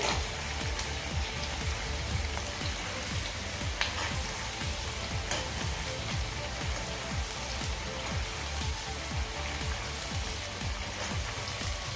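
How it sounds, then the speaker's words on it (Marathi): Onions for a spicy prawn biryani fry in a pan with a dense, continuous sizzle and crackle, close and steady, with faint scraping from constant stirring underneath. "कांदा आपल्याला सतत हलवत राहायचा आहे कारण हा सतत हलवल्यामुळे एकसारखा सगळीकडून तळला जाईल"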